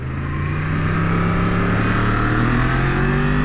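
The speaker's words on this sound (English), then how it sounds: "that sort of R1 cross-plane crank engine noise that everybody loves" The cross-plane crank engine of a 2020 Yamaha MT-10 motorcycle, an R1-derived design, rumbles loudly and close with a deep, uneven throb and slowly rising pitch, like a steady rev building.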